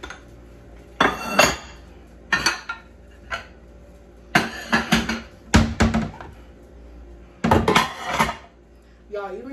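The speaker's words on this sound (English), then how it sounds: "I'm about to put my dishes away" Dishes, cutlery and glassware being put away at home, bursts of clattering and clinking separated by short pauses, close and fairly loud.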